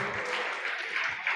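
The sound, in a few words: audience clapping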